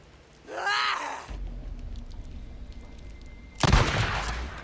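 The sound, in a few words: gunshots while fighting raiders in the video game Days Gone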